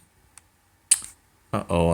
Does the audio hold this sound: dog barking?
no